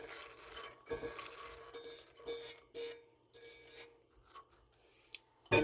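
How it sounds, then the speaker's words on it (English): White beans being poured into a pot over bacon and onion, with irregular bursts of rattling and scraping against the pot and a faint background hum, the beans tumbling in short clusters. "I'm gonna put my white beans in here"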